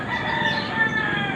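Gus, a pet rooster, crowing loudly and close in one continuous drawn-out call.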